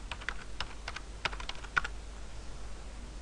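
Quick typing on a computer keyboard while working in Revit, a handful of light, irregular key clicks close by over a faint hum, with no talking.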